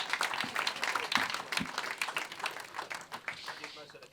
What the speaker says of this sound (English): let's have a clap for that, please.